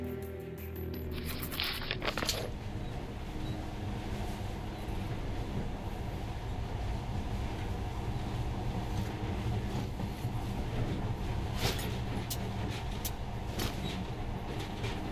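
A monorail train runs steadily in the video game Metro Last Light, a continuous rumbling rolling noise with scattered clicks and brief high squeals throughout.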